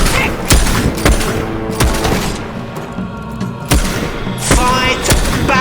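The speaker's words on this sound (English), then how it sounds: "That shooting will kill you" Video game gunfire crackles in loud, sharp volleys: several heavy shots and bursts ring out close at irregular intervals over a dense, busy battle din.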